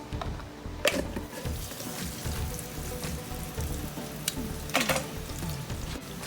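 Chicken skin for Filipino crispy chicken skin fries a second time in hot oil, crackling and sizzling busily up close, with a few sharp pops and scraping stirs breaking through the bubbling.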